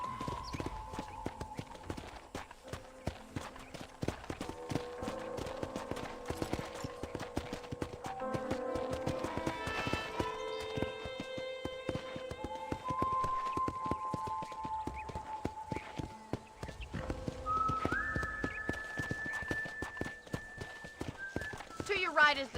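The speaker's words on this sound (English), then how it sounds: "I picked out a fine horse for you." Horse hooves clop steadily in the video game Red Dead Redemption as horses are ridden along, a rhythmic beat under spoken dialogue and game music.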